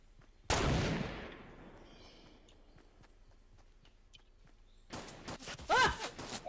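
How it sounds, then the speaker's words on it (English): A single loud, sharp gunshot in Fortnite cracks out and decays into a long tail, then a flurry of quicker shots and impacts follows a few seconds later, with a voice crying out among them. "Somebody shooting me."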